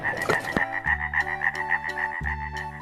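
Cartoon frog croaking in a lively repeated rhythm, several short croaks over a sustained musical backdrop, loud and close with no talking.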